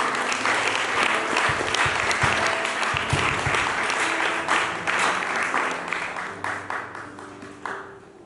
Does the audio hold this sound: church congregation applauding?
yes